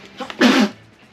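A single short, sharp sneeze bursts out close by, preceded by a brief intake of breath.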